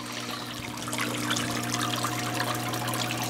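Water trickles steadily in a waterfall-style fish tank in a home fish room, a continuous close splashing wash over a low, steady pump hum, with no voices.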